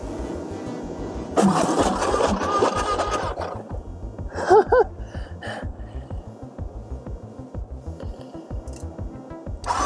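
A motorcycle's electric starter cranks an engine flooded with water, pumping the piston to force water out through the spark plug well; a loud whirring burst of cranking, then quieter mechanical churning with brief squishy sputters.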